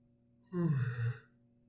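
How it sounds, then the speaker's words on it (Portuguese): One person lets out a single drawn-out, voiced yawn lasting about a second in a quiet room, close and clear with no other sound around it. "eu tô bocejando demais"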